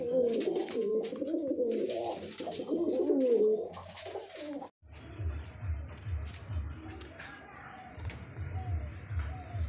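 Fantail pigeons coo in soft, repeated murmurs at close range, with the cooing strongest in the first few seconds before quieter background noise takes over.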